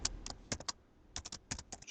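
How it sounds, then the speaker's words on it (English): Rapid bursts of keystrokes on a computer keyboard while entering code into a Python shell, clicking in quick irregular clusters with a short pause in the middle, close and moderately quiet, no talking. "Try typing true and not false into the shell."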